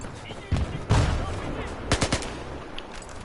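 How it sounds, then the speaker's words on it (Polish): UMP submachine gun firing in a video game, a few loud short bursts and single shots with sharp cracks, separated by brief gaps over a noisy battlefield background. "UMP, najlepsza broń w grze"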